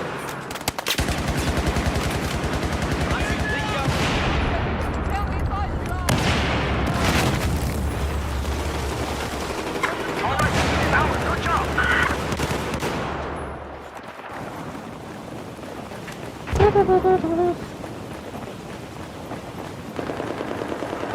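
Battlefield 4 gunfire on PS3, with dense continuous loud bursts of automatic fire and booming blasts over a rumbling low drone, and heavy explosive hits near the end.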